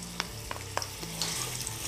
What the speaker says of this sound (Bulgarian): За целта в загрят зехтин ще добавя първо лукът и чесънът.